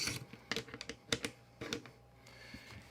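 Metallic clicks and rattles as the recoil spring is worked back into a freshly greased AK rifle's bolt carrier, a series of sharp close taps over about three seconds, then quieter scraping.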